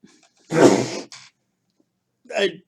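A sharp, close sneeze bursts out, followed after a pause by a second, shorter sneeze.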